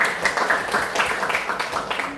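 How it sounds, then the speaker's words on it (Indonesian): A classroom group claps together in dense, lively applause, many hands patting at once in a continuous close patter with no speech over it. "terima kasih, tepuk tangan"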